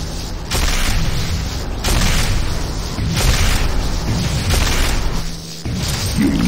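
Sustained booming blasts as a Hand of Nod structure is destroyed in the game Renegade, loud, heavy rumbling explosions recurring in waves with little pause.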